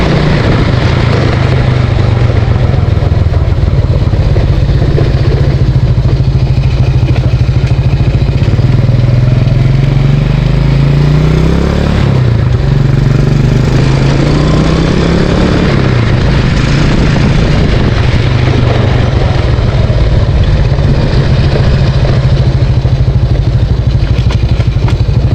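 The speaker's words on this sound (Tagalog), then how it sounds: "kung bakit maingay yung makina nitong ating Motorstar dahil hindi ko pa nga pala nilalagay yung kanyang air filter or yung kanyang air cleaner" Motorstar motorcycle engine running with an open carburetor and no air filter, a loud, steady, throaty idle with mechanical clatter, briefly revving up and dropping back near the middle before settling into the same rough drone.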